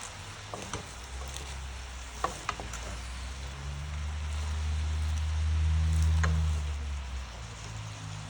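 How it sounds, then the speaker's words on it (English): Chicken chop suey stirred in a hot pan, a steady sizzle with a few scraping clicks of the utensil, swelling into a louder low rumble midway before easing off; no talking. "Do this stir just to get some of this to the bottom."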